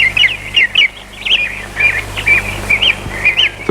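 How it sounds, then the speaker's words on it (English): Birds sing on a summer day, a string of bright chirps and whistled phrases repeating at a steady pace over a faint low hum. "The birds were singing."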